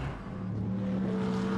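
On-board engine note of the leading Audi race car in a Blancpain Sprint Series race at Nogaro, a steady high-revving drone that climbs in pitch, heard close and without talking.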